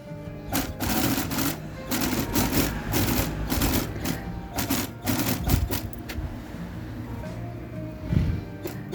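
A sewing machine stitches along the raw edge of a Girl Scout skirt's fabric, a busy mechanical rattle running steadily in bursts with brief pauses, close and fairly loud with no talking.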